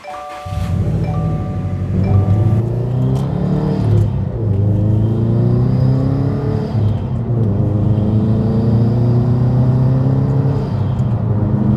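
A 2015 Subaru STI pulls away on its first drive, its engine rumbling loudly from inside the car as it rises and drops through several gear changes in steady, unbroken acceleration.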